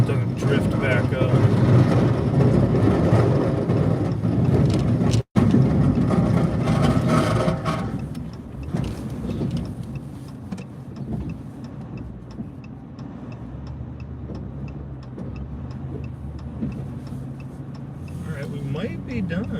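A vehicle plows snow outdoors, a steady low engine rumble and scraping that runs loud and continuous, easing slightly partway through, with faint talk underneath.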